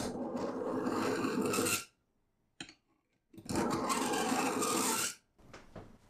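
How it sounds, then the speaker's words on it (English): A dull kitchen knife drawn through an X1 Pro sharpener gives two long, harsh rasping strokes separated by a brief pause and a small click, close and fairly quiet. "with a dull knife like this, you wanna sharpen it first by beveling, which is where you put the tip down and you pull it through."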